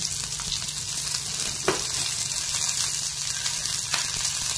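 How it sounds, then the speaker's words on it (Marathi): Onion and cumin frying in a pan, a steady close sizzle with faint stirring scrapes throughout. "थोडा जिरा आणि आता त्याच्यामध्ये कांदा टाकून घ्यायचा"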